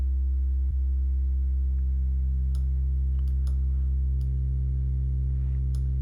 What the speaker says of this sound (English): that's a sine wave, but they're interfering with each other, frequency modulation